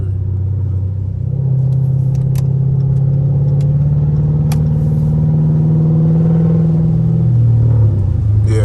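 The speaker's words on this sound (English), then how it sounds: "you hear the Burbles still" A catless Dodge Charger SRT exhaust burbles and rumbles steadily up close on a rainy drive, with a deep drone that swells and eases as the car moves along, plus a few sharp crackles.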